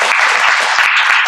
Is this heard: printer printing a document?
no